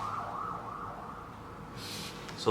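An ambulance siren wails in a steady rising and falling tone, moderately loud and heard on its own.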